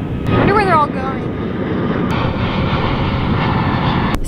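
A propeller airplane drones low overhead above a beach, a steady loud engine rumble, with a brief voice and a few faint knocks near the start.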